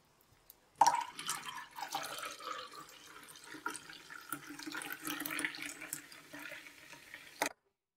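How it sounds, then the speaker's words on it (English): Pepsi pours into a glass, a steady splashing liquid stream that starts abruptly and runs for several seconds with fizzy trickling detail, close and moderately loud, then cuts off sharply. "It's just me pouring some juice, or some Coke, or Pepsi in this case rather, into a glass."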